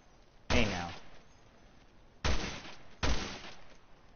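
Gunfire in the survival horror game Resident Evil Revelations 2, aimed at bugs: three sharp shots, a single one followed by two close together, loud against a quiet background.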